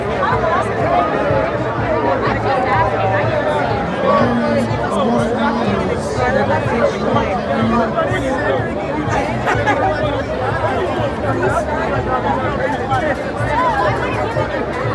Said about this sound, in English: Look how thick the crowds are here.